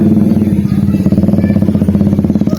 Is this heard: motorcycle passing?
yes